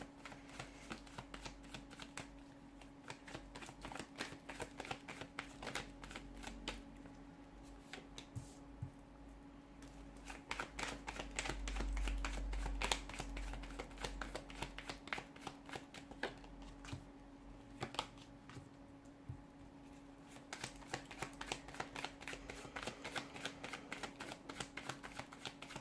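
Tarot cards shuffled steadily for the whole stretch, a dense, continuous patter of soft papery flicks and riffles over a faint steady hum, with no talking.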